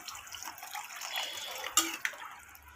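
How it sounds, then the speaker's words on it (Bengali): Water added to an omelette curry made with chicken eggs in a cooking pan, a soft trickling and splashing wash of liquid with a couple of brief clinks near the end, fairly quiet and without talk. "এরপর আমি এখানে জল অ্যাড করে দেব।"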